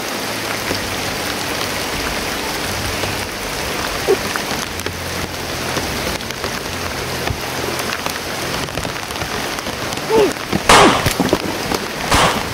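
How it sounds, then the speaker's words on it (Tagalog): Heavy rain pours steadily and loudly throughout, a dense unbroken hiss of drops hitting surfaces, with a brief louder splash near the end. "Grabe, lakas talaga ng ulan tol."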